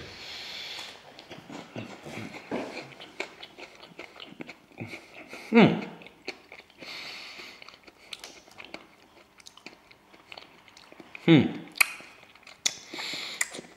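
Aldi Chocolate Scribbles biscuits are bitten and chewed up close, sharp crunchy bites standing out twice over a run of softer, irregular chewing crunches.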